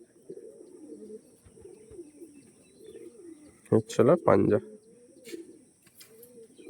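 Pigeons of a top-quality Andhra breed at a loft, with soft cooing and a brief loud burst of wing flapping or calls near the middle, under ongoing talk.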